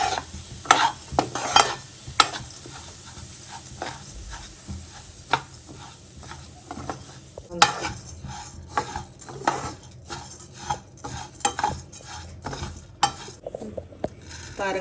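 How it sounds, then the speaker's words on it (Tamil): A spoon stirs rice and lentils dry-roasting in a pan for kozhukattai, making irregular scraping and rattling strokes with a faint sizzle. The strokes grow quicker and denser halfway through, and no one talks. "அரிசியும் பருப்பும் நல்லா வறுபட்டுருச்சு"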